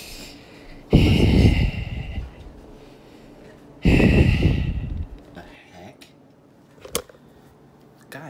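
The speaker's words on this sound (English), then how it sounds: "I just heard breathing. That was super weird." Heavy, eerie breathing comes over a phone call in a video game, two long loud breaths a few seconds apart, followed by a short sharp click and faint noise.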